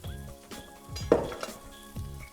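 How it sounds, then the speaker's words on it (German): Onions fry in oil in a hot pan, crackling and sizzling, with a sharper burst midway and soft scraping or clinks of a utensil against the pan. "Lassen wir mal schön anbraten."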